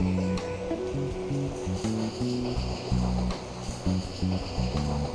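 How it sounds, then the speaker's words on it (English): Carrington Falls waterfall in New South Wales, Australia, heard from the top: a loud, continuous rush of falling water with uneven surges, close by and with no talking. "We're now right on top of the waterfall."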